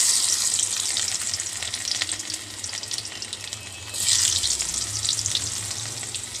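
Garlic frying in hot oil with dried red chillies and black cumin, a steady close, loud sizzle with a brief dip midway before the hiss swells again, no voices.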